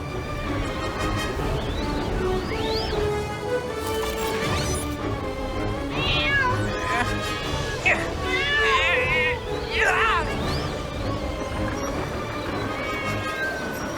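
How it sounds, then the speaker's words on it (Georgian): A cartoon cat meows amid a busy animated scene, with characters talking, crashes and whooshing sound effects layered throughout. "კატა საფრთხეშია."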